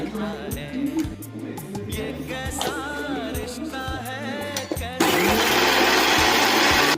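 A mixer grinder whirs in bursts as it grinds soaked Byadgi chillies, coriander leaves and garlic into a paste, its motor note rising and settling, then running loud and continuous for the last couple of seconds.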